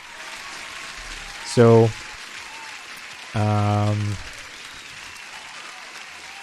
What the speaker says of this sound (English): I'm gonna give a huge applause for the new subscribers